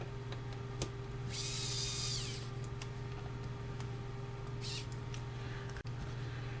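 A small power screwdriver drives two tiny screws into a Dell Latitude 5570 laptop during a charging port repair. It whirs in one steady burst near the start, with a fainter second burst later, over a low steady hum.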